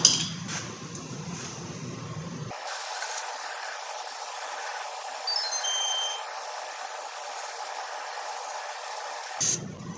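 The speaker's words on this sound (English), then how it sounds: "Let's spray her out again and pull it out." A loud continuous hiss of spray blasts for several seconds, spraying out the differential of a 2002 Chevy S-10 ZR2, framed by quieter mechanical clatter before and after.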